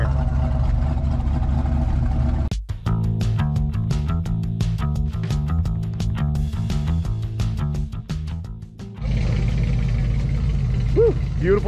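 A 1970 Mustang Mach 1 with a 351 Cleveland V8 idles loudly and close, its rough lumpy rumble broken by sharp blips of the throttle, then settling back to a steady idle.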